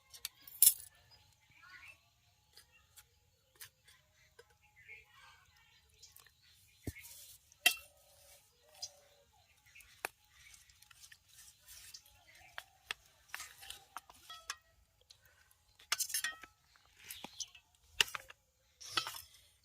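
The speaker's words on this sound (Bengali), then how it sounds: "এই কর্নফ্লাওয়ারটাকে জল দিয়ে আমি গুলে নেব" Cornflour stirred into water with a spoon in a bowl, heard as sparse, light clinks and taps scattered through a quiet background with no one talking.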